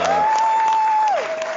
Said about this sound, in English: Give one more round of applause to MMTLP